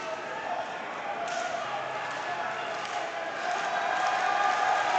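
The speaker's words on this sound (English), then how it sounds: "Listen to this raucous crowd getting behind Big Trouble." A raucous crowd at an independent wrestling show roars and cheers in a steady, dense wall of noise, with thumps and a commentator's voice over it as a match goes on.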